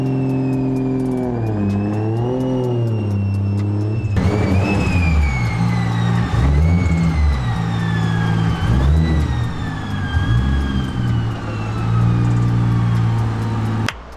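A 1JZ-powered Toyota Supra MK3 with a new turbo setup runs loud and close, its engine droning steadily, then rising and falling in pitch with revs, with a high turbo whine above.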